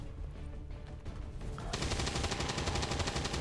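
Rapid automatic gunfire from the turn-based strategy video game XCOM 2 erupts after a quieter stretch of ambient game sound, a loud, sustained burst of repeated shots continuing to the end.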